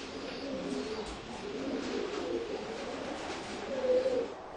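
Racing pigeons coo softly in a loft, low throaty murmuring calls repeating over a quiet background, fairly faint and close, with a slightly stronger coo near the end.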